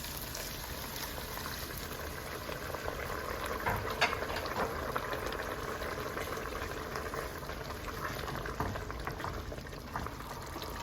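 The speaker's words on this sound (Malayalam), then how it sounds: "അപ്പോൾ ഞാൻ 1 കപ്പ് തിളച്ച വെള്ളം ഒഴിച്ച് കൊടുക്കുകയാണ്." A cup of boiling water goes into a pot for Kerala beef peralan, producing a steady bubbling, splashing wash with a brief louder burst midway, fairly quiet and without talk.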